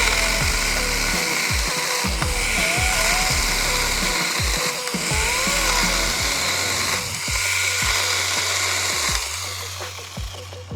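A SeeSii cordless pruning saw, a $50 tool, runs continuously and cuts through bush branches, its steady motor whine loud and close, with the pitch dropping and shifting as the blade bites into the wood.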